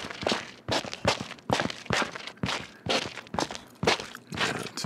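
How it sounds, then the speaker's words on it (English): Footstep sound effects in a sidestep pattern with added scuffing, about ten close, evenly spaced steps, each a short gritty shuffle, with no voices. "If I was to do something like a sidestep, which would introduce some scuffing"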